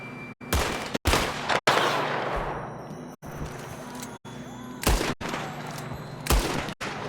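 Rapid bursts of loud gunfire from Red Dead Redemption II ring out repeatedly, sharp cracks separated by brief silences, with echoing tails between shots.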